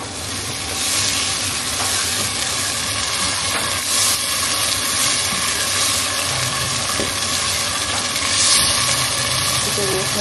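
Steady, loud sizzling of yogurt added to hot oiled masala in a pan, a dense hiss holding throughout with faint clinks of stirring and a voice speaking briefly over it.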